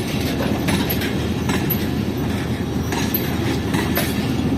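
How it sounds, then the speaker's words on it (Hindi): A passenger train shunts at Quetta railway station, giving a steady, close rumble of rolling wagons with faint clickety-clack and occasional thin wheel squeals, with no voices. "ये अभी ट्रेन शंट हो रही है"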